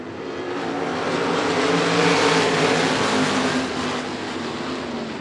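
Sprint cars at Devil's Bowl Speedway, Texas, roar as a pack on the dirt oval, a dense sustained engine drone that swells and holds, then eases slightly, heard from trackside.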